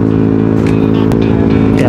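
A Yamaha Aerox V3 scooter hums steadily and close during a ride, its engine drone constant under wind, with brief sharp clicks and rattles along the way.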